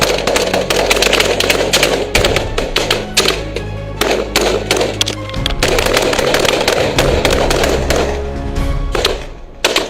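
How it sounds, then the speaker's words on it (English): Private guards fire automatic rifles at a speedboat during an attempted hijacking of a cargo ship, loud rapid bursts of gunfire crackling almost continuously with short gaps, close and harsh over a low rumble. "Private guards are firing automatic rifles at a speedboat."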